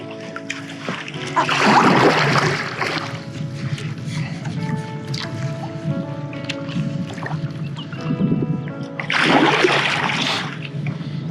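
A paddle dipping and splashing into water while paddleboarding at Crested Butte: two strong splashing surges a few seconds apart over a steady watery wash, with faint voices in the background.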